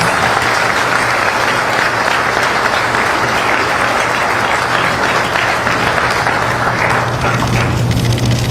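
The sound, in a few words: audience applause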